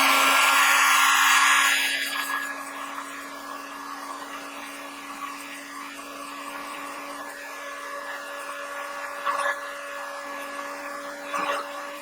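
Steady whirring hum of a heat gun warming paint to lift it, loud at first and then settling into a constant even drone with a few faint handling knocks.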